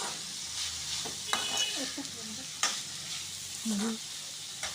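Vegetables and egg stirred and frying in a pan: a steady low sizzle with several sharp spatula scrapes and taps against the pan, close and clear, with no voices.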